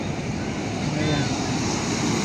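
Large sea waves churn in stormy weather, a steady loud roar of surf with wind rumbling across the microphone and no clear breaks.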